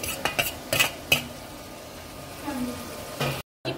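Capsicum and onion sauté in a pan with a few sharp metallic clinks of a spoon stirring, then a soft, quiet sizzle underneath.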